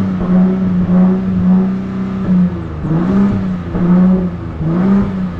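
A truck engine in neutral revs up and down in repeated swells, loud and close, with a steady droning idle between the pushes.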